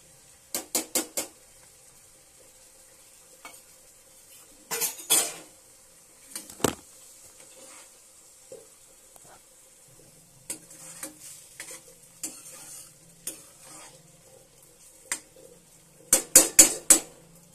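A spatula mixing beaten eggs with onions in a pan, giving sparse clinks and scraping taps in short bursts over a faint sizzle, close and fairly quiet.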